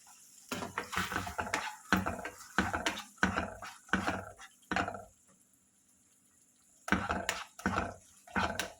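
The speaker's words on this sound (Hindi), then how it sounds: "अब मैं उसमें ऑनियंस डाल दूंगी।" Chopped onions tossed into hot fried ginger-garlic paste in a pan for pav bhaji, giving a run of close clattering scrapes and stirring knocks against the pan, a short lull, then more stirring.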